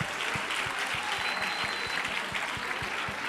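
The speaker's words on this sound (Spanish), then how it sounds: "Un aplauso, claro." Conference attendees clap steadily after a talk on the women who created the video game industry, a moderate even wash of applause with a faint rhythmic thump underneath.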